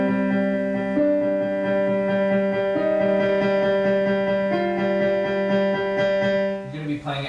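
Piano playing the right-hand part of the theme from Shin Gojira, slow sustained chords and melody notes ringing together, close and fairly loud.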